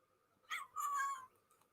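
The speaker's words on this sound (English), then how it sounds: "Don't know if you heard that, but Flora meowed" A house cat gives a single clear meow in a quiet room, a short opening note followed by a longer drawn-out cry, close by and alone.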